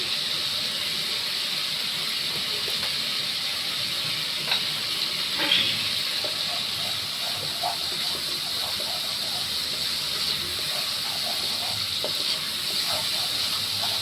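Garam masala hitting hot ghee in a pan, a steady bright sizzle that holds for the whole stretch with a few faint pops and clinks, close and continuous, with a little speech at times.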